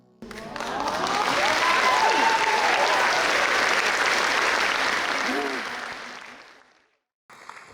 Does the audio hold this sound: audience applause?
yes